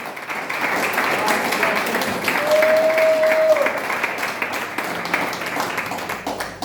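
A church congregation claps steadily in sustained applause through an evangelical Spanish-language sermon, with a dense wash of clapping and a brief tonal whine partway through.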